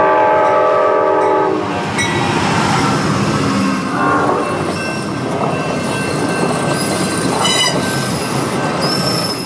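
A train rolling along the rails with loud, sustained metallic wheel squeal and a horn-like tone near the start, close and steady throughout with a dense rumble underneath and no voices.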